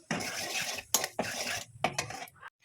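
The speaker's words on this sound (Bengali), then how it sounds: "ভালো করে নেড়ে নিতে হবে" Spices and turmeric stirred in a pan for mustard hilsa, a spoon scraping and clinking against the metal in several close, bursty strokes with brief pauses between them.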